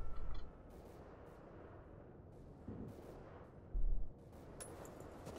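Battlefield 1 game gunfire at the Gallipoli Helles Landing: sporadic muffled shots and booms over a steady battlefield din, with two heavier low thumps near the start and about four seconds in, no voices.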